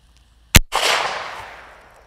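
A single sharp gunshot from a Ruger revolver firing a CCI Big 4 .357 shotshell outdoors, a loud close crack followed by a lingering, fading rumble.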